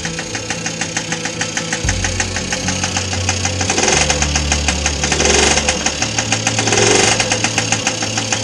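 A 1983 Honda Express II NC50 moped engine, just after carburetor cleaning, runs steadily with a rapid rhythmic putter and rattling vibration, revving slightly higher at moments, close and loud.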